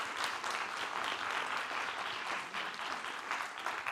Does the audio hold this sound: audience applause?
yes